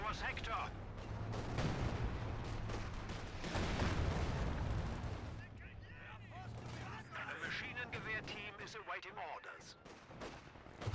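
Artillery barrage in a competitive World War II strategy game match, heavy booming fire rolling continuously for several seconds, with a voice commentating over it and the shelling thinning toward the end.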